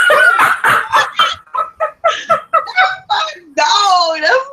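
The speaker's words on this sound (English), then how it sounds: "Dog, that's my dog." A dog barks in a rapid run of short yelps, then breaks into a drawn-out whining wail, loud and close with no talk over it.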